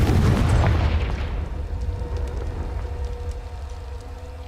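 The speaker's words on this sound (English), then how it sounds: "Confringo!" A Confringo spell explosion in the game Hogwarts Legacy bursts with a loud, close boom. Its low rumble rolls off and fades over several seconds, and no voice is heard over it.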